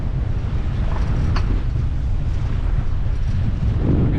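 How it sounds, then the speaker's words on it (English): Strong wind buffets a boat out at sea ahead of a deep free dive, a constant loud roaring rush with heavy low rumble and no talk. "It's too windy up here."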